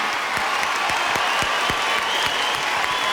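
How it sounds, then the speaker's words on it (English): Sustained applause from a live concert audience, dense steady clapping filling the room at close range with scattered sharper claps standing out, continuing without a break. "how about another round of applause for Supreme Master Ching Hai"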